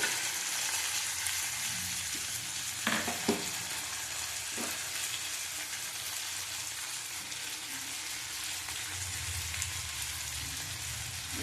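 Prawns sautéed in a pan for a sour curry with raw mango and eggplant give a continuous soft sizzle and crackle, with a few sharp spoon clinks early on, moderately quiet and steady.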